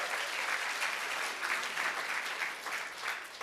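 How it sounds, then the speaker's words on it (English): An audience at a marketing success academy event in New Jersey claps steadily together, a dense, even patter of many hands sustained throughout, fairly loud and without speech over it. "you guys should clap your hands"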